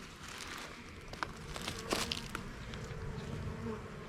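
Bees buzzing steadily around a small wooden hive outdoors, a dense continuous drone close by with a few brief knocks and handling noises on top, no talking.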